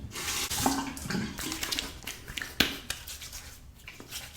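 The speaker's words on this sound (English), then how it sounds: "Quick face rinse." Water splashing at a sink as a face is rinsed after a razor shave, close soft irregular splashes and running water with a few sharper slaps of hands.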